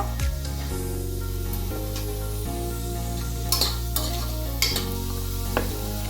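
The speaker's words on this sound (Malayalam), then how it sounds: "അതിട്ട് ഒന്ന് വഴറ്റി എടുക്കണം. ശേഷം പച്ചമുളക്, അതിന് ശേഷം നമ്മൾ എടുത്തു വെച്ചിട്ടുള്ള സവോള" Green chillies and onions sautéing in a pan for vegetable kurma give a steady close sizzle under repeated scraping strokes of a spatula, with a few sharp metallic clinks and no talking.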